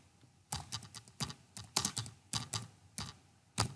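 Someone typing on a computer keyboard, crisp close keystrokes in quick uneven bursts with short gaps between them, fairly quiet, with no voices.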